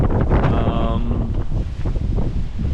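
Wind blows from the south through a palm garden in Ålesund, Norway, with Trachycarpus and Phoenix canariensis palms, and buffets the microphone as a steady, loud rumble with a faint voice briefly underneath.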